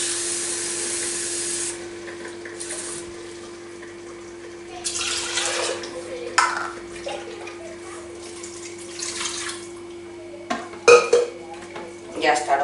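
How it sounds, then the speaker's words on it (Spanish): Water poured into a GM G Deluxe pressure cooker pot holding lean meat in sauce and minced sofrito, a splashing, running pour in bursts with light pot and utensil clatter, moderately close. "lo que vamos a echar es echarle otra medida de agua"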